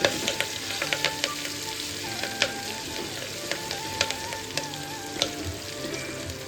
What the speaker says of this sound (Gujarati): મીઠા લીમડાના પાનને પણ એડ કરશું અને કટ કરેલું એક લીલું મરચું અને આદુને પણ એડ કરી દઈશું